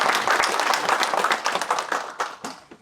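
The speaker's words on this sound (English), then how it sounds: "Let's give her a round of applause." Audience applause at a political party executive meeting: a crowd clapping briskly, dense at first and thinning into scattered claps as it fades, nearby and moderately loud.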